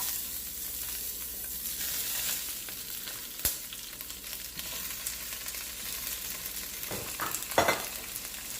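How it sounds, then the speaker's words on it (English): Cabbage and mixed vegetables sizzle and crackle while being stir-fried in a very hot pot, a steady close hiss broken by a few sharp clanks and stirring scrapes, with no talking. "I'm doing a stir fry veg, okay? Guys, the pot is so hot."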